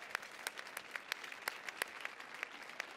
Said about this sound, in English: help me give a big round of applause to a World Bank amazing talent woman. Fredes